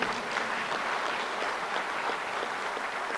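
Convention audience at an annual general meeting applauding steadily, a dense wash of clapping from many hands that holds at an even level throughout with no talk over it.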